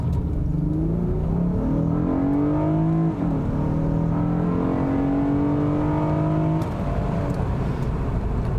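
A 13-year-old Acura TL Type S sedan with a 5-speed automatic launches from 0 to 60 mph, its engine rising steadily in pitch through several upshifts, loud and close from inside the car for about seven seconds.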